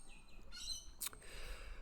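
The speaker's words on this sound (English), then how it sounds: "I'm sorry if you can hear the birds and the kids next door." Birds sing outdoors on an afternoon, a few faint, distant chirps and whistled notes with one brighter, sharper call partway through, set over a low background rumble.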